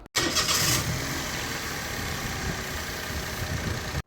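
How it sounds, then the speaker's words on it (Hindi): A Toyota Vitz engine cranks and catches immediately, then settles into a steady, loud idle nearby after a long period without being started. "अब गाड़ी करते हैं स्टार्ट।"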